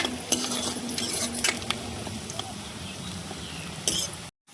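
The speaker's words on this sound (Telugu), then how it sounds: "ఉల్లిగడ్డలు కొంచెం గోల్డెన్ బ్రౌన్ కలర్లో వచ్చే వరకు వేయించుకోవాలి" Green chillies and onions frying in a pan until golden brown, with a steady close sizzle under scraping stirs and light metallic clinks of a spoon against the pan, no talk.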